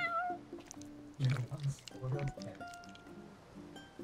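Cat meowing in the video game Final Fantasy XV, a few short meows alongside soft squishy game effects, heard under ongoing talk.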